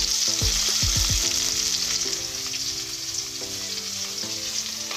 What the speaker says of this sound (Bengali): মাছ ভাজা হচ্ছিল